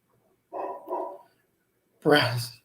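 A dog barks in short bursts: a quick double bark, a pause, then a louder single bark, fairly close in an otherwise quiet space.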